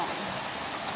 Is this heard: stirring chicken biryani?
no